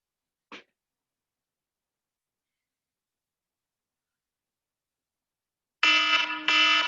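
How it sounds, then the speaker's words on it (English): A workout interval timer sounds a loud, sustained electronic alarm tone near the end, after a long silence broken only by one faint short blip. "there's our timer"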